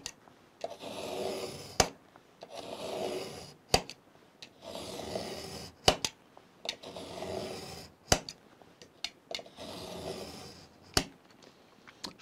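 A hand saw cuts a slot into a wooden board resting on a plank over a table: steady rasping back-and-forth strokes in a regular rhythm, close and fairly loud, each pass separated by short pauses, with no voices.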